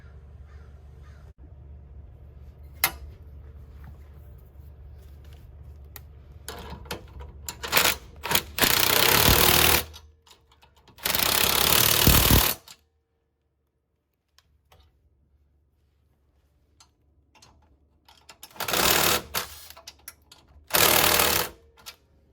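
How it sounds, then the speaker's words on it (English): Nuts are cinched onto the bolts of 30-inch Libra stabilizer jacks with a power tool. Four loud, close, buzzing bursts come in two pairs, with faint clicks and quiet stretches between them. "So I'm gonna go ahead and cinch these up with the nuts"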